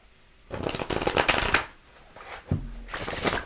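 Tarot cards are shuffled in two quick bursts of riffling and slapping, close by, separated by a short pause; no one speaks.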